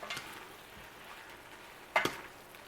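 Broccoli and pasta tossed with olive oil and garlic powder, a soft wet stirring and light sizzle with a couple of clearer scrapes toward the end, faint and close.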